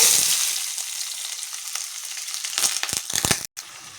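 Chopped onions frying in a pan with bay leaf and garam masala while cooking a simple chicken dish, a steady close sizzle with several sharp crackling bursts and stirring scrapes near the end.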